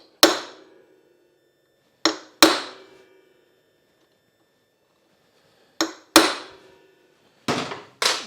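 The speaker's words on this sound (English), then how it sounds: "First thing we need to do is center punch that" Six sharp metallic taps of a hammer on a center punch marking a bolt for drilling on an XR250R motorcycle, spaced irregularly in pairs with silence between, each ringing briefly.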